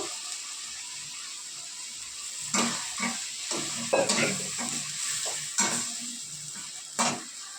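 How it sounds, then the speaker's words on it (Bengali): Sugar and a splash of water hit a hot frying pan, giving a steady sizzling hiss broken by several scraping stirs of a spoon, close and fairly quiet, with no speech. "একটু চিনি দিয়ে দিলাম। একটু সামান্য জল দেবো।"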